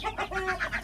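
Farm chickens give a short run of quick, rhythmic clucks close by, under a second long.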